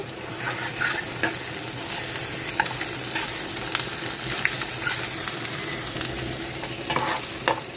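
Ginger garlic paste fries in a pan with a continuous sizzle, broken by frequent clicks and scrapes as it is stirred.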